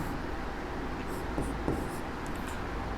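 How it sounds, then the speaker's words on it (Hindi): Chalk or marker strokes on a classroom board as a matrices definition is written out, a few short scratchy marks over a steady room hum, no talking. "यहाँ पे एक और डेफिनेशन लिखता हूँ बेटा"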